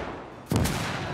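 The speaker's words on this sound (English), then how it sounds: "Oh, that's not a cannon, dude. That's a Maxim." A Maxim machine gun fires in Gates of Hell: Ostfront, a sudden loud burst of rapid shots that cuts in sharply and rings out, with no talk over it.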